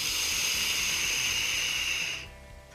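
An e-cigarette fitted with a Serpent atomizer gives a close, steady airy hiss for about two seconds as vapour is drawn, then stops abruptly.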